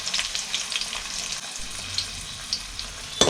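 Ginger and garlic sizzle in hot oil for a village-style mutton sambar, a steady crackling hiss with light stirring scrapes and a sharper clatter near the end.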